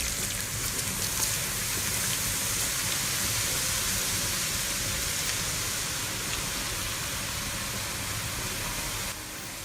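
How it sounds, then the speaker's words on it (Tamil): Potato chips fry in hot oil over medium to high heat, giving a steady, dense sizzle and crackle that continues throughout before dropping slightly at the very end. "இப்ப வந்து மீடியம் டு ஹை ஹீட்ல வச்சு இதை நான் ஃப்ரை பண்ண போறேன்"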